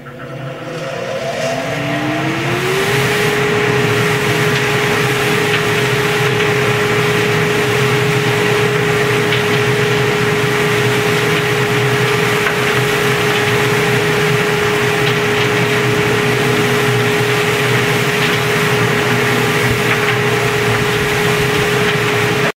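A shop-built cyclone separator dust collector, the Turbulator 4000, spins up with a rising whine that settles into a loud, steady roar and hums on continuously with no talking.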